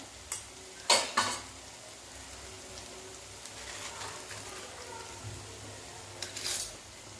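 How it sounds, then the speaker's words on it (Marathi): A spoon scrapes and stirs spices frying in a pan for a chole and potato curry, with a few sharp clinks against the metal and a soft continuous sizzle underneath, no voices. "आता हे पण मिक्स करून घेऊया थोडंसं मसाले भाजले ना"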